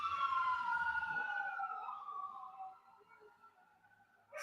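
Outside, a police car siren wails in long sliding tones, faint and somewhat distant, dropping in pitch and fading before a brief rise at the end; no talk.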